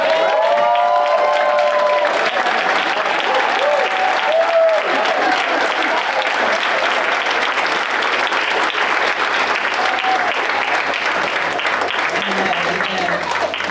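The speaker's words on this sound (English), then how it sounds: "I want us all to stand and give Randy and Brenda a round of applause." A banquet audience at an awards dinner rises to its feet and delivers a long, loud, steady standing ovation of dense clapping with some cheering, continuous throughout and briefly mixed with a voice near the start.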